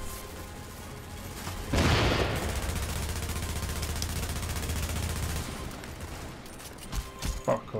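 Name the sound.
gunfire shooting down a turret in The Division video game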